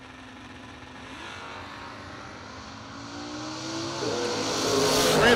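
An S10 pickup truck drag racing against a Daytona at a drag strip, its engine roar swelling steadily from a distance and climbing in pitch and loudness.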